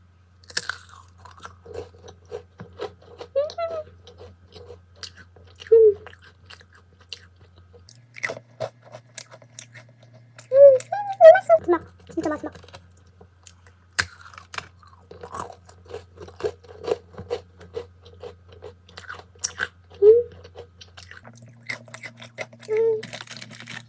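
Almond snacks are chewed up close in a quiet room, with scattered crisp crunches and softer wet chewing in irregular bursts, separated by short pauses.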